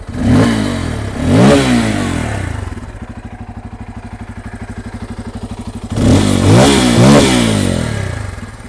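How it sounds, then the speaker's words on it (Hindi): A Bajaj Pulsar N250 motorcycle exhaust sounds close and loud as the engine is started and revved twice, settles into a steady thumping idle, then is revved hard twice more. "ये है N250 का एग्जॉस्ट का साउंड।"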